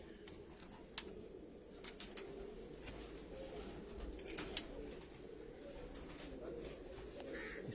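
Caged pigeons coo softly in a Karachi loft, low murmuring calls blending into a quiet ambient background, with a few faint sharp clicks and taps.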